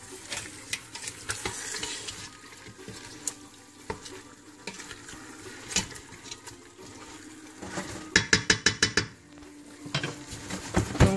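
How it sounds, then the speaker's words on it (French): Salt and pepper being stirred into chicken in a cooking pot for pastilla, with repeated scraping and clinking of a utensil against the pot over a soft sizzle, and a brief burst of quick metallic strokes near the end. "On remélange pour bien mélanger le sel et le poivre."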